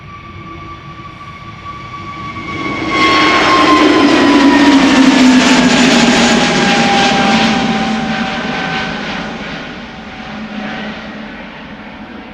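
EasyJet airliner taking off at Schiphol, a loud jet engine roar swelling in after a few seconds, peaking as it passes close by, then slowly fading with a falling whine.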